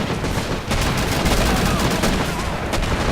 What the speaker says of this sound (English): Mortar's still firing off.